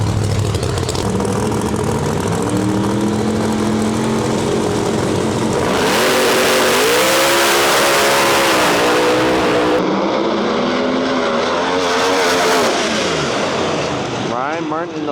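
Outlaw drag racing cars, including a twin-turbo Challenger, make loud passes at a Canadian drag strip: engines roar and rev hard, rising in pitch through the gears, with bursts of full-throttle noise and abrupt cutoffs.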